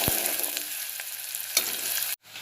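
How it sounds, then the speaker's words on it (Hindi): Onions fry in oil in a pan over medium heat, a steady close sizzle with a few stirring scrapes, then a brief drop to near silence at the end. "मीडियम आंच पर रखूंगी गैस और प्याज हल्के गोल्डन होने तक मैं इसे तलूंगी"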